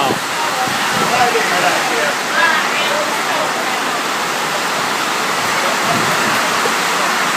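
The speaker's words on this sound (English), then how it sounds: "60-mile-an-hour winds, and we're in Missouri." Strong 60-mile-an-hour winds in Missouri roar in a loud, constant broadband rush, with brief faint voices under the gusting noise.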